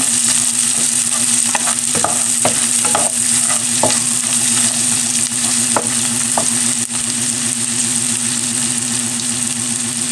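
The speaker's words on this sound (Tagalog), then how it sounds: "Gisa ko na po dyan ang ating sibuyas at bawang." Onion and garlic sautéing with golden-browned pork in a pan, a loud, continuous sizzle heard close up with scattered scrapes from stirring and a low steady hum in the background.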